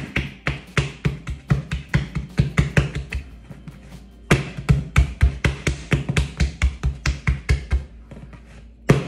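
Palms repeatedly slapping and knocking the air out of Irish turnover bread dough on a table, a fast run of sharp close thuds in two bursts with a brief pause between them.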